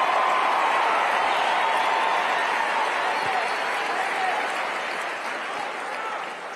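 Loud crowd roar at the AMFEST political convention, a dense wash of cheering and clapping that holds strong, then eases off slightly near the end.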